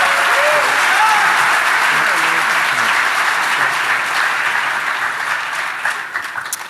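Conference audience at a DEF CON 21 security talk applauding a first-time speaker, a sustained, dense roar of clapping close by that tapers off near the end, with a few voices mixed in.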